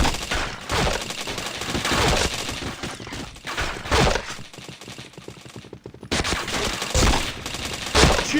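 Dense, loud gunfire fills a shooter video game, with repeated shots and volleys stacked close together and only a brief lull near the end.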